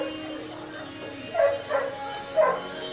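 A dog at home, about to have its hair trimmed, lets out three short yipping barks in quick succession, close by and moderately loud over a quiet room background.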